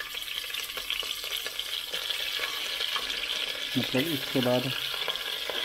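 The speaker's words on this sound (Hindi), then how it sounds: "चिकन को घी में हल्का फ्राई करना है" Chicken sizzles lightly in ghee with a continuous close frying hiss and occasional stirring scrapes, while a voice speaks briefly near the end.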